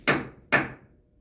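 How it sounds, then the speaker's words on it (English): Two loud, sharp thuds about half a second apart, like heavy knocks on wood, aboard the Queen Mary ship in Long Beach, California, followed by quiet. "Last night it was 2 loud thuds"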